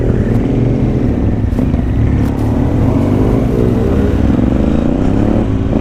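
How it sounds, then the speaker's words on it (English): Loud, steady motorcycle engine in busy traffic on the A22 near southeast London, picked up through a rider's headset, droning continuously with rising revs and faint clatter and no talk over it. "Your bike sounds good through the headset"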